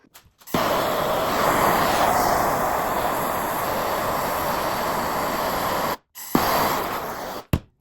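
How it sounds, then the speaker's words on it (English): A blowtorch roars in a steady, loud hiss while heating a metal bracket, running continuously for several seconds, briefly cutting out and then relighting near the end, with no talk. "I'm gonna heat this up with my blowtorch"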